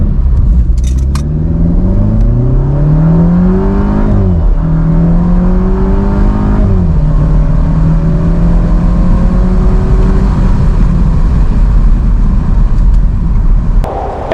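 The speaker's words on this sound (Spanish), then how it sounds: "me está sorprendiendo por lo deportivo que es el sonido de este motor" A Mercedes SLK 200 engine revs hard at full throttle, its pitch climbing through gears with brief dips at each shift, close and continuous.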